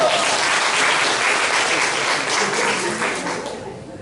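Sustained applause from a church congregation, a dense wash of many hands clapping at steady volume that tapers off toward the end, with no talking.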